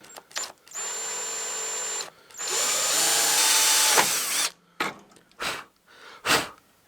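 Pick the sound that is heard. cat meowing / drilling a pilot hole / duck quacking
drilling a pilot hole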